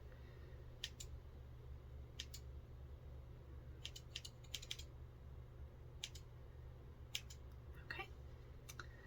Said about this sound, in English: I'm just gonna take my little scissors.